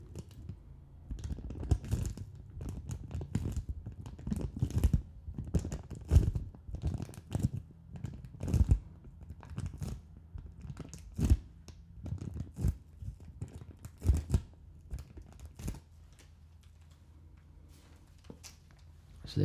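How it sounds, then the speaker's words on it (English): Plastic bag of disposable foam earplugs crinkled close to the microphone, giving dense, irregular crackling and rustling bursts that run throughout with no talking. "I know some people really quite like crinkling sounds, so I'll try them in the microphone."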